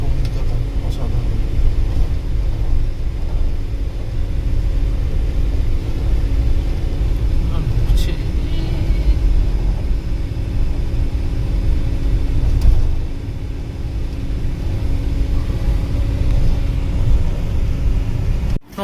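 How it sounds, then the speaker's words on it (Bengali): An AC sleeper bus cruises along Marine Drive road near Madhavpur beach, heard from the upper deck as a steady, loud low engine and road rumble with a brief dip midway. "বাসে যাচ্ছি। অসাধারণ স্লিপার বাস, এসি"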